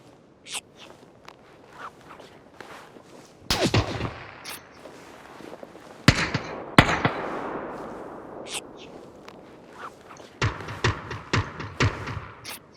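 Gunfire in PUBG on the Erangel map during a solo match: several sharp shots at irregular intervals, some loud and close, others fainter, over quiet game ambience.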